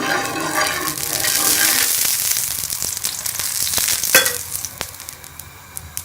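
A palak paratha spread with ghee cooks on a hot griddle, giving a loud crackling sizzle that gradually thins into sparser pops and hisses.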